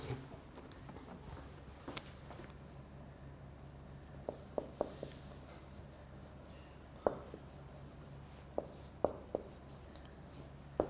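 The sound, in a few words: writing on a board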